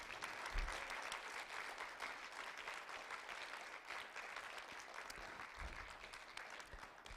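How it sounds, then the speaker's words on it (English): Steady audience applause after an evening fundraising giving-day program, a dense wash of many hands clapping that holds throughout at moderate level, with no voices standing out. "let's give them another round of applause for tonight"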